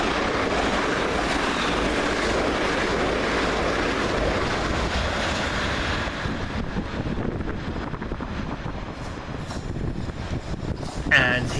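A Class 377 electric train passes through Three Bridges station on the London Victoria to Brighton line, making a loud, sustained rushing roar that fades and thins toward the end.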